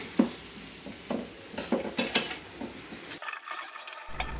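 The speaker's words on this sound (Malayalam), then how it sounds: "നല്ല പോലെ വറുത്ത് കോരി എടുക്കണം" Chicken frying in oil in a home kitchen: a soft background sizzle broken by clattering stirs and scrapes of a utensil against the pan, several sharp knocks in quick succession.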